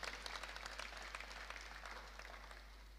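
Faint applause from an audience, a soft continuous patter of clapping heard at a distance with a low steady hum underneath.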